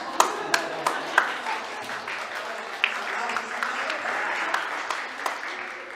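Applause rises from an audience at a church youth gathering, with a few sharp individual claps standing out early before the clapping settles into a steady, moderate patter.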